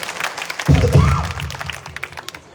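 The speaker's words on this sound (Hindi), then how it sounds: "आप लोग इतनी जल्दी ताली बना दिया" A rally crowd at a public meeting in Padra, Vadodara district, Gujarat, breaks into sudden loud applause that swells and then thins into scattered claps, with voices mixed in.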